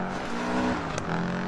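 An RC rally car, the 22B, screams past during a race with a high, rising engine whine and a quick sharp transient midway, loud and close with no voices.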